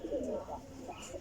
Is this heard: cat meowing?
no